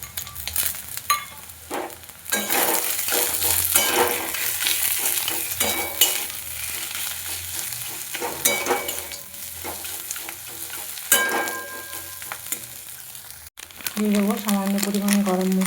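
Stirring and frying of a savoury snack filling in a pan after chopped coriander leaves and fried peanuts go in, a steady loud sizzle with scraping and stirring strokes throughout, ending in a brief tonal sound.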